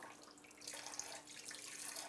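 Hot water running from a bathroom sink tap during a home inspection, a steady, fairly faint broadband hiss of flow that continues without a break.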